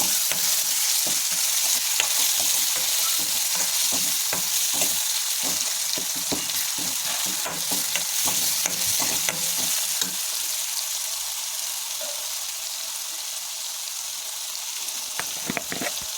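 A steady, close sizzle of grated coconut paste frying in a pan, with frequent scraping and clicking as a spatula stirs it; no talking.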